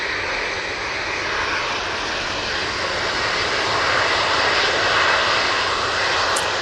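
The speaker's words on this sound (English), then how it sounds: "This will be chasing down that A330." An Airbus A330 jet airliner departs, its strong engine roar steady then building slightly louder toward the end, heard alone without speech.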